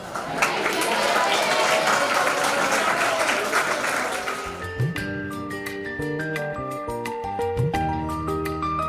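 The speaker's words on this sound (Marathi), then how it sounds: "सर्वांनी एकदाच हॅपी रिटायरमेंट म्हणा आणि टाळ्या वाजवा" An audience claps at a retirement ceremony for a retiring teacher, a dense burst of applause lasting about four and a half seconds before music takes over.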